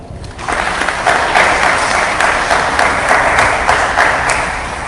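Audience applause at a library event presenting an exhibition on Carmen Lira, a loud, sustained wash of clapping that swells after a brief quiet start and holds steady to the end.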